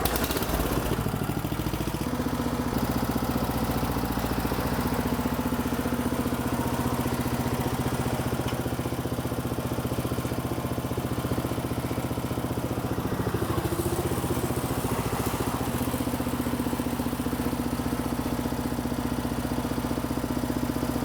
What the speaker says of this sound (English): So I'll just start up the machine and I'll show you how well that belt system works.